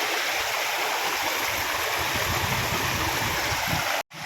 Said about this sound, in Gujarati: જો અહીંયા પાછું કંઈક ઝરણું આવી ગયું